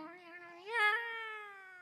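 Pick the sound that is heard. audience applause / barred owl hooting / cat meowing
cat meowing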